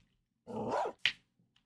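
A dog lets out a drawn-out growling bark followed by a short sharp bark, close and moderately loud, with a faint extra yip at the end.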